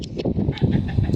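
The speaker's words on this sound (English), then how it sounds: "I've apparently upset some chickens" Agitated chickens squawk and cluck in a quick, close burst of overlapping calls, brief and fairly loud, with no one speaking.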